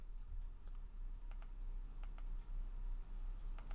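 Quiet control-clicking on a computer keyboard and mouse, a few sparse sharp clicks spaced irregularly over a low electrical hum, close and faint with no talking.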